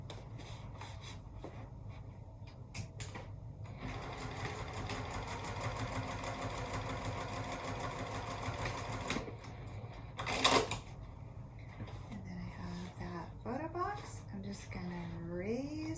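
A sewing machine stitches the sides of a zippered cosmetic bag seam to seam, running in a long steady burst with shorter runs around it, while a voice talks over parts of it.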